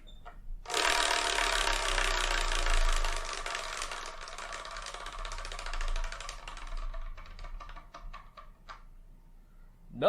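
A prize wheel spun by hand sends out a rapid, loud run of ratchet clicks that slows into sparse, separated ticks as the wheel coasts to a stop.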